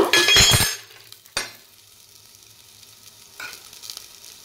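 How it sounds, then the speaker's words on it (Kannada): Dried red chillies fry in oil in a pan for a fenugreek dal, with a loud burst of sizzling and a spatula scraping at first, then a quieter steady crackle and another short stirring flare near the end. "ಹಾಕ್ಬಿಟ್ಟು ಚೆನ್ನಾಗಿ ಫ್ರೈ ಮಾಡ್ಕೊಳ್ಳೋಣ."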